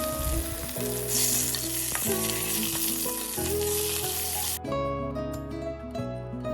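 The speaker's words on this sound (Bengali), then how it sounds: "দেখো লঙ্কাগুলো ভাজা হয়ে গেছে" Bay leaf, whole cumin and slit green chilies sizzle in hot oil for a bottle-gourd and tengra fish curry. A bright, continuous hiss under background music drops away sharply near the end.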